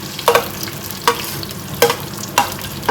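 Garlic, shallots and green chillies sauté in hot oil, with a spoon scraping the pan in four or five distinct strokes over a steady soft sizzle, close and alone without voices.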